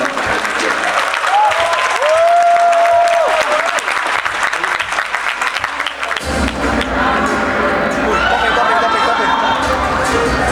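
Loud, dense audience applause at a campus event at ITB Bandung, sustained clapping with crowd noise and cheering swelling in the second half.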